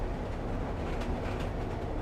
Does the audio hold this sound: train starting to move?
yes